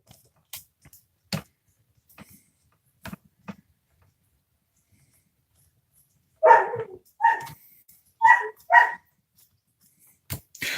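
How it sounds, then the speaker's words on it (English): A German Shepherd barks in the background, four loud close barks in quick succession midway, after scattered ticks and knocks at a workbench, with one more short bark near the end. "you can hear a German Shepherd in the background."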